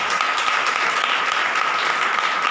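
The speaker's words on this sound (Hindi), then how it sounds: "एक बार जोर से ताली बजाओ" Church congregation clapping loudly together during a Hindi sermon, a bright, continuous burst of applause at full strength with no one speaking.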